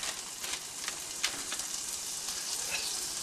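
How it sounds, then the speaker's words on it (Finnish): Reindeer meat frying in a pan for sautéed reindeer, a dense, steady sizzle with crackling pops throughout, close and loud with no talk. "sen jälkeen lisätään tämä käristysliha tähän pannulle"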